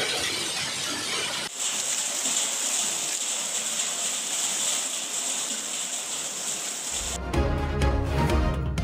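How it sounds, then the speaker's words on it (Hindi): Heavy rain falling in Wazirabad, a steady dense hiss of downpour that continues throughout, briefly cut near the start and joined by louder low rumbling and clatter toward the end. "वजीराबाद में शदीद बारिश"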